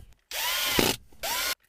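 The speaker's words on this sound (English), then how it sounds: "Next up, we need to drill a hole right about here." A power drill bores a hole into a GM car's interior trim while a wireless phone charging kit is installed, in two loud, close bursts of whirring separated by a short pause.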